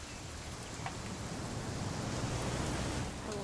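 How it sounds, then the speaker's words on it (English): Steady rain falls in the video game What Remains of Edith Finch, a continuous, even hiss of downpour with no breaks and a few faint higher patters over it. "It's gonna rain the whole weekend,"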